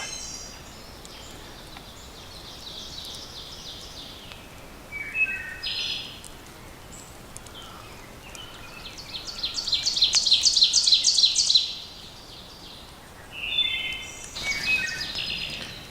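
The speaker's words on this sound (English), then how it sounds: "these birds are still going at it though" Evening birdsong at a hammock campsite, with several birds calling in repeated high chirping phrases and trills, one rapid trill series swelling louder midway, over a quiet outdoor background.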